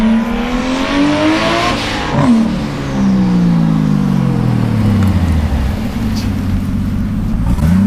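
Nissan Skyline R34 GT-R V-Spec II launching hard, loud close engine revving up through gears with rising pitch sweeps, turbo boost whoosh and a brief dip before climbing again; no talking.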